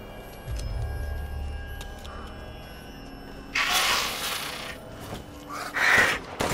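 Money is picked up in the Resident Evil Village video game, with a bright metallic jingle of coins. Two short, clear chimes stand out over low game ambience.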